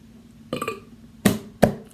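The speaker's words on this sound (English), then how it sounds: "Weak burp, but we'll probably get a better one next time." A weak, short burp: a soft throaty burst, then two sharp, brief bursts, close and fairly quiet with no talk.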